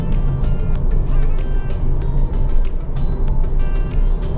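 Electric car cruising along a Kuala Lumpur highway, with steady road and tyre rumble and some passing traffic throughout, fairly loud and continuous.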